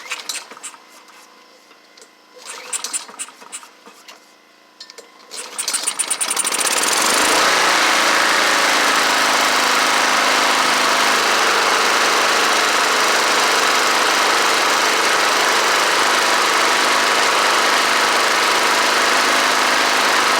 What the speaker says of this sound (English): we're going to give it a pull and see if it'll crank.